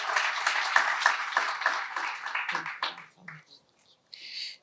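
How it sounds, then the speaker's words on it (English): An audience claps steadily for a few seconds, then the applause thins out into scattered claps and fades away. "Can we give another round of applause to our special speakers today?"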